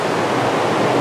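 Water from a small park pond pours steadily down into a well in the middle, a constant close rushing splash like a little waterfall, with no talking over it.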